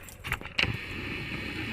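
A bunch of look-alike keys for fire alarm panel and pull station locks jangles in a short, close burst of metallic clinks, then settles into quiet room tone.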